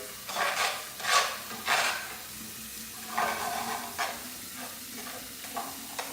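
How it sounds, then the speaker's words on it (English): Food is stirred and toasted in a pan, with repeated scraping strokes and a soft sizzle coming in uneven bursts, close by and with no talking. "So I'm just giving this a stir and a toast."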